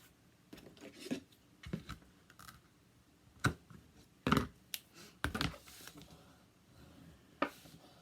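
Quarter-inch tape pressed onto an edge and burnished down firmly, giving quiet, irregular bursts of rubbing and crinkling with a few sharper taps, alone with no talk.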